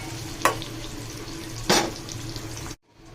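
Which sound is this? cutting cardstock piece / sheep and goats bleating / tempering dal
tempering dal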